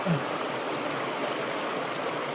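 Temula river in Kutai Barat flowing steadily, an even broadband rush of water close by with no pauses and no talking.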